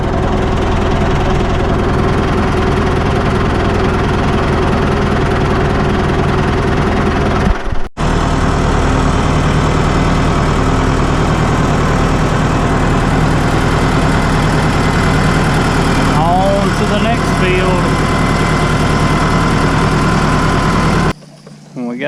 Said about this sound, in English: There's the fuel tanker bringing the fuel for the pump.